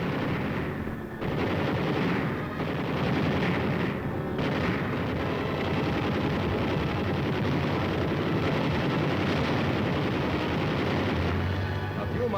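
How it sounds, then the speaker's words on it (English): Heavy .50 caliber machine gun fire rakes enemy rear guard positions in a wartime battle, a dense, continuous roar of bursts and booms that carries on loudly throughout with no break. "red rear guard positions are raked with .50 caliber fire"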